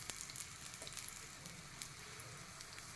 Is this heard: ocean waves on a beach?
no